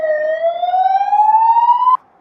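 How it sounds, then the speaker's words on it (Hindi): A single ambulance siren on a Budapest street, loud and close, holding one steady rising wail for about two seconds before cutting off abruptly, with no voices over it. "यहाँ बुडापेस्ट में एम्बुलेंसेस बहुत भागती हैं"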